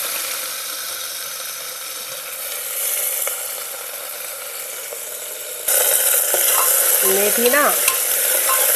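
Fenugreek greens frying in a pan while being stirred, a steady sizzling hiss with scraping that grows louder partway through, and a brief voice speaking near the end.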